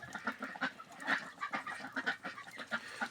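Muscovy ducks in a pen, several birds of mixed colours making soft breathy hisses and low chuffing calls in quick irregular bursts, close by and fairly quiet.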